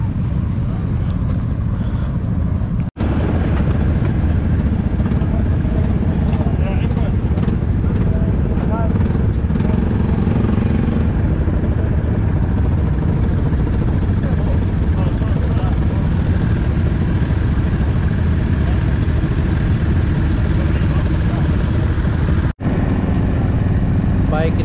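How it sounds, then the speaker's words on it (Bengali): Quad bike engines idling together in the Agafay desert near Marrakesh as a large group prepares to ride; a loud, steady mechanical drone that runs continuously, broken only by two brief cuts. "বাইক রেডি, এখন আমরা এটা ড্রাইভ করব"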